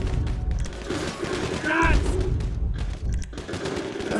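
Dense gunfire rattles in Grand Theft Auto 5, rapid bursts and shots stacking into a continuous loud fusillade with a brief shouted voice cutting through the middle.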